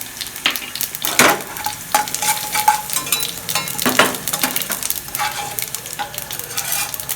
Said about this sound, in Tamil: உளுந்து கொஞ்சம் போட்டுக்கலாம்.